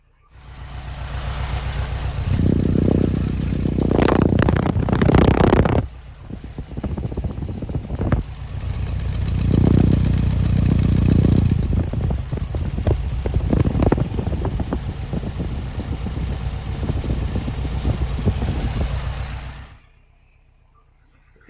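A 1969 Volkswagen Beetle's air-cooled flat-four boxer engine idles through twin pea-shooter exhaust pipes, a steady close rumble with a few louder swells, before cutting to near silence at the end.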